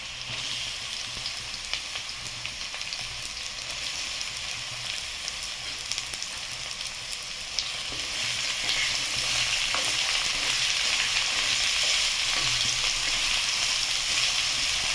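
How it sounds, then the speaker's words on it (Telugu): Continuous loud sizzling of ridge gourd pieces frying in a pan over tempering with curry leaves, with occasional stirring, getting slightly louder partway through; close and steady. "ఇప్పుడు బీరకాయ ముక్కలు వేసేస్తాం."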